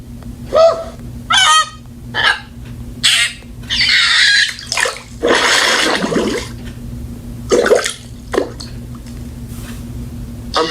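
Loud honking bird calls, goose-like, come in short, separate bursts with brief pauses between them, close and clear, with no talking.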